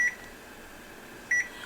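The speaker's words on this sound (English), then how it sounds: "I'm going to set my timer at 5 minutes." A kitchen timer gives two short, clear electronic beeps about a second apart while being set during stovetop mac and cheese cooking, in a quiet room.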